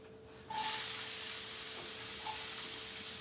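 Chopped onion hits a hot pan with a sudden loud, steady sizzle that carries on as a bright, close hiss, with a few faint clinks over it and no talking.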